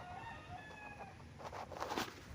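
Chickens tied up on a farm in Pagsanjan, Laguna, clucking and crowing faintly in the distance over a quiet outdoor background.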